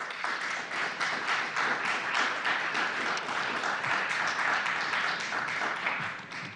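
Sustained, even applause from people gathered in a city council chamber after a resolution passes, many hands clapping together in a continuous roar that holds steady before fading slightly at the end.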